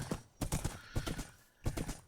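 A horse's hooves clip-clop on a road in close, distinct clusters of hollow strikes separated by brief pauses, quiet and with nobody talking.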